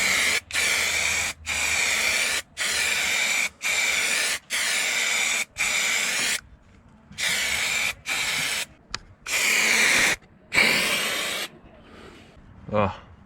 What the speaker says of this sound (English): I'm just going to give this rear half of the rail a bit of a spray as well